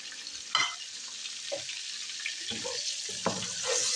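Whole cumin, cinnamon, cardamom, black peppercorns and cloves drop into a hot pan, giving a soft, close sizzle with a few faint clicks and scrapes, quiet and without speech.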